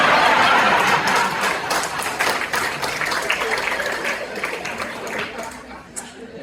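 Applause from a stand-up comedy audience rises in a dense burst of clapping with scattered chuckles and chatter, then slowly thins out over several seconds.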